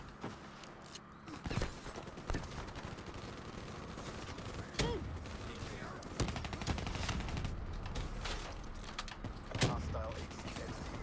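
Gunfire in the video game Call of Duty: Black Ops 3, with steady game noise full of sharp automatic bursts and single shots plus mechanical clanks, and no talking over it.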